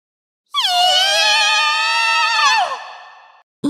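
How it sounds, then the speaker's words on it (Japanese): A high, wavering, scream-like shriek from the rhythm game Project Sekai holds for about two seconds and then slides downward, loud and alone. "今、悲鳴みたいなの聞こえなかった"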